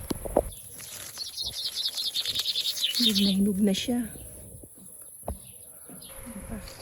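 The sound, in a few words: birds feeding in apricot tree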